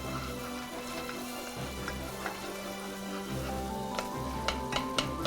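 Vegetables softening in butter in a pan, a soft steady sizzle with a low hum beneath and a few sharper pops and crackles near the end, no one speaking.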